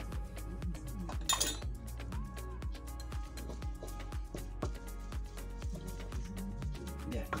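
Spoon clinking steadily against a bowl or dish while paprika is mixed into a seasoning paste for Canarian rabbit salmorejo, a quick repeated rhythm of close metallic and ceramic taps with no talking.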